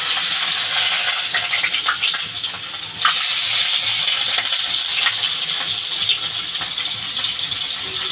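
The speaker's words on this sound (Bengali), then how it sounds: "বন্ধুরা তেলটা আমার গরম হয়ে গেছে," Hilsa fish frying in hot oil, a dense, steady sizzle that crackles close by and stays loud throughout, with no one talking.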